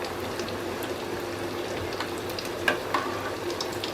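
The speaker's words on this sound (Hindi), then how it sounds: "तेल गरम हो गया है, कोफ्ता फ्राई कर लेंगे। मीडियम फ्लेम पे कोफ्ता को फ्राई करेंगे।" Malai kofta balls, coated in flour, fry in hot oil on a medium flame, giving a dense, even bubbling sizzle throughout with a couple of faint clicks from a utensil.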